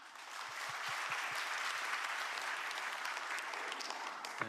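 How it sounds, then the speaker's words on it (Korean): An audience at a government policy briefing breaks into applause, a steady, dense wash of clapping that continues for the whole stretch without pause. "박수 부탁드립니다."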